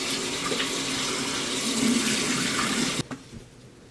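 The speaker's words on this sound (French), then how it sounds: "Ensuite, on se rince." Tap water runs steadily in a sink while a face is rinsed, a loud close hiss that cuts off abruptly near the end, followed by a few soft splashes and drips.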